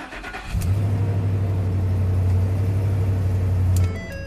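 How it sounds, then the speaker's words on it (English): A 2011 Ford F-350 engine cranks and catches, then settles into a loud, steady low idle for about three seconds before cutting off, with no talking. "This engine does start."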